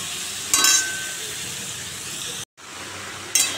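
Gourd and potato curry with five-spice tempering and green chillies hisses steadily in a pan, with louder bursts of sizzle as the mix is stirred, heard close and without talk.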